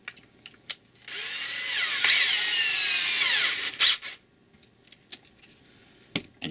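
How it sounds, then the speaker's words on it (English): A power drill with a 1/8 inch bit whirs steadily for about three seconds drilling through metal, high and grinding, with a few sharp clicks and knocks before and after. "just drilling through that hole into that center ring."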